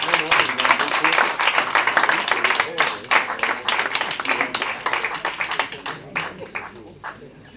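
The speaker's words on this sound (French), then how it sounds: "On peut les applaudir, tous les étudiants, bah venez." An audience applauds a group of sixteen students at a coding bootcamp's app demo day in Lyon. The clapping is dense and sustained, mixed with voices, and thins out toward the end.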